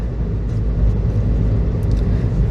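Car accelerating out of a turn during a driving lesson, a steady low engine rumble and road roar that holds at an even level throughout, close inside the cabin with no talk.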